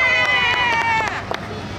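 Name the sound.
crowd cheering on cue at street show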